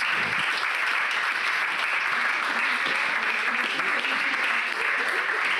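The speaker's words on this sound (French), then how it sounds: "sous les applaudissements nourris de notre assistance et de bergonniers à distance" Sustained, dense applause from an awards ceremony audience fills the whole stretch at an even, strong level with no pause.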